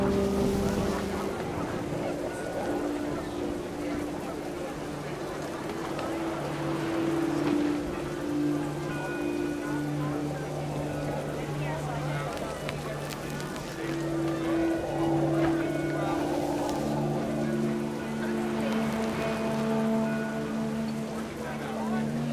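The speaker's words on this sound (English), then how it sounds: "The rain came down in buckets then" Heavy rain pours steadily throughout a scene in the video game What Remains of Edith Finch, a dense continuous wash of drops mixed with tonal game music, loud and unbroken for the whole span.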